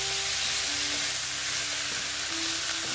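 Chunks of young jackfruit hit hot oil and sizzle in a steady, dense hiss that holds even and close for a few seconds, with no talking.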